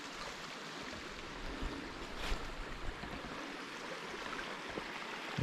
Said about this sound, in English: there's the creek that makes the little waterfall down there next to the river.